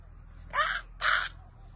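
A human voice imitating a peacock's call, two loud, harsh, nasal cries in quick succession against a quiet background.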